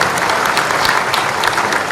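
An audience at the MP Tech Growth Conclave bursts into loud, sustained applause, a dense patter of clapping hands filling the hall.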